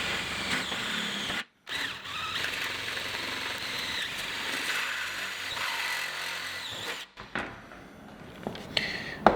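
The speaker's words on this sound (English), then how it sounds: "I'm going to be using a stepped drill bit to make this hole." A power drill running a stepped drill bit through material while installing Wall Control pegboard in a workshop, a steady whine broken by two short stops and a final burst of handling noise.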